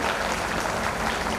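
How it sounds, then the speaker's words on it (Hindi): Loud, dense applause from a large crowd at a mass wedding ceremony for disabled and poor couples, a steady wash of clapping filling the whole moment with no voices on top. "एक बार जोरदार तालियां बजाइए।"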